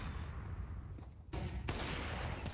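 Gunfire from a professional Counter-Strike match between Imperial and BIG in ESL Pro League Season 20, a dense, noisy burst of shots with sharp onsets partway through, loud and continuous with no talk over it.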